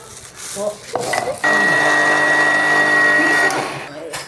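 Mustard seeds are ground into a fine powder in an electric blender, which runs as a loud, steady whirring hum for about two seconds after some handling noises and then winds down.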